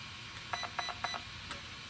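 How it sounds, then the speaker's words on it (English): An Arrma Senton 3S 4x4 RC truck's electronic speed controller gives short, faint electronic beeps in close pairs, at full-throttle calibration, set against a quiet hiss with no voices. "Full throttle is 2 beeps."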